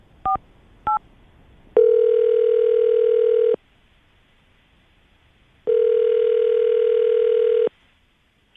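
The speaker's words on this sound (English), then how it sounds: "all right, Aaron, we're going to call her right now, see if we can get her on the phone and get your second date update, okay?" On a morning radio show, a telephone call is placed: two quick keypad dial tones, then two long ringback tones separated by a pause, clean and close with no talking.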